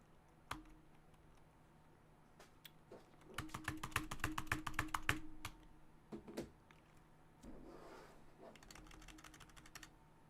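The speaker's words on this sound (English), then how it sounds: "Come on, keyboard." Rapid clicking of keys on a computer keyboard, with a dense burst of fast typing in the middle and scattered single taps before and after, fairly close and alone.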